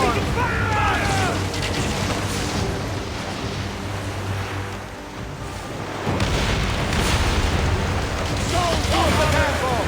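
Naval cannons booming during a ship battle against an armada in Assassin's Creed Origins, deep rolling blasts over wash of sea waves, with shouted voices breaking in near the start and end.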